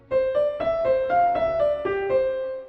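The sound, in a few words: short melody played on instrument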